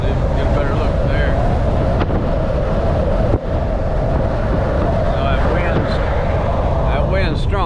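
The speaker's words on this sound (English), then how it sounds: "That wind's strong" Strong wind buffeting a microphone from the cab of a truck in New Jersey traffic, a loud, steady roaring rush with someone talking over it.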